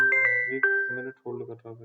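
A phone ringtone goes off during an online Hindi class on local search marketing: a short melodic run of bright electronic tones, fairly close and clear, lasting under two seconds.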